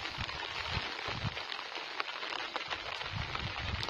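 Rain falling around a fishing spot by a rice field, a steady, dense patter of drops hitting surfaces with scattered louder splashes, close and even throughout with no talk.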